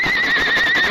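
A horse whinnies loudly and close up in a radio drama, just after a young rider reins in and dismounts at a mountain spring. One sustained neigh with a wavering pitch is heard on its own.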